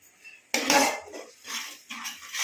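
A spoon scrapes and clatters against a pan while Bombay duck (loitta fish) curry is stirred, in three or four close, loud bursts with short pauses between them and no talk.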